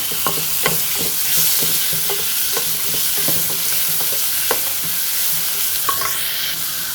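Tomato sizzles in a pan with small onion for drumstick soup, steady frying hiss broken by repeated clinks and scrapes of a spoon stirring, close and continuous with no talk.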